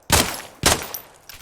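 Two sharp gunshots fired in the Nuclear Epoch game, loud and close, about half a second apart, each with a short decaying tail, then a faint softer click.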